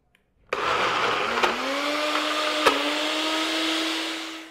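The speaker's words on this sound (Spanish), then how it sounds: "vámonos ya a licuar" Kitchen blender whirring cream into a canapé spread, starting abruptly after a short silence and running as a loud steady motor whine with a slowly rising pitch, a couple of brief clunks along the way, and no voices.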